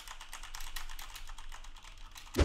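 Quiet, steady typing on a Corsair K70 keyboard with MX Red switches, picked up by a Rode NT-USB microphone with noise reduction applied, so it sounds soft and slightly muted, with a louder knock at the very end.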